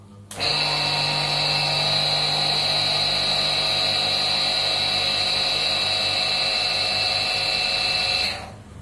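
A Benz BZ-8570 jet cleaner pressure washer's 900-watt electric motor whines steadily at a high, even pitch for several seconds, starting and stopping abruptly, close and loud with no talking.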